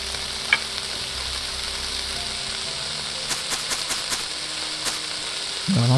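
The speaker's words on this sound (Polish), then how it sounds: "Może jak wyjdę do gry i wejdę, to się przestanie skwierczyć tam." Food sizzles steadily in a pan in the video game Cooking Simulator, a soft continuous frying hiss with a few faint clicks and taps near the end, no talking.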